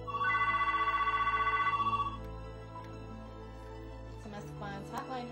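A telephone rings on a round-the-clock hotline at a women's and families' support center, one loud, steady electronic trill lasting about two seconds before it cuts off, leaving a faint low hum.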